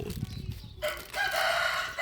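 A rooster crows loudly and close by in the morning at a rural Thai home, one long, drawn-out call following a few softer, low clucking sounds.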